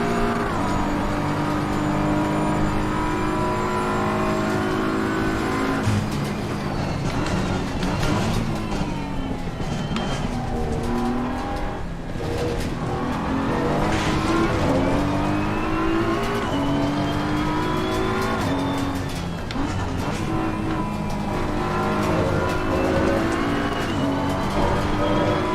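A Porsche race car in Assetto Corsa Competizione revs hard and continuously, its engine pitch climbing and dropping through gear changes, with tyre noise running loud throughout.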